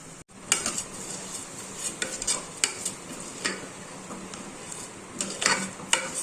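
Rice and moong dal fry with spices in a pan, a utensil scraping and stirring in uneven strokes over a soft steady sizzle, close by and with no talking.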